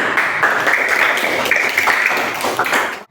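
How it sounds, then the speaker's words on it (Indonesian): A classroom group claps together during a lesson, brisk and close, a short dense burst of hands lasting about three seconds before cutting off abruptly. "Tepuk tangan."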